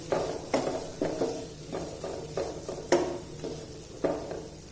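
Chopped onions sauteing in a pan for white sauce pasta, a soft steady sizzle broken by regular scraping stirs about every half second, close up and with no talking.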